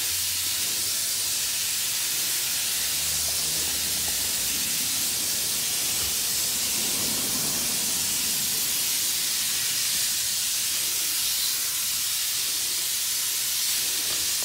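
An insecticide sprayer hisses in a loud, steady, unbroken spray that lasts the whole stretch outdoors, with faint low rumbles beneath and no talking.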